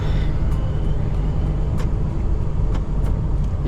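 A long-haul truck driving on the road at night, heading out to load potatoes. A loud, steady low engine and road rumble fills the clip, with a few faint clicks over it.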